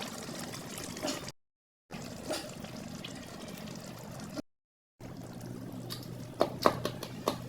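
Pabda fish curry is tipped out of a pan in soft, wet pours and trickles, fairly faint and close, broken by short silent gaps and ending with a few louder splashes and clinks.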